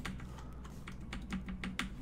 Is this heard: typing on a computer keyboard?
yes